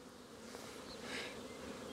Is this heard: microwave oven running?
no